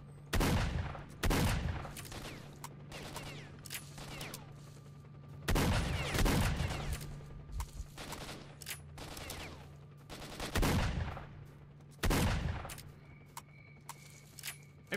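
Gunfire in the video game S.T.A.L.K.E.R. Shadow of Chernobyl: loud sharp shots and short bursts fired in irregular clusters, with a steady low hum underneath and no talking.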